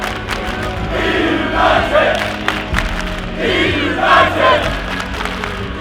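An esports crowd at the CWL London event cheers loudly and chants in rhythmic waves. Two swelling rounds of shouting fill a large venue.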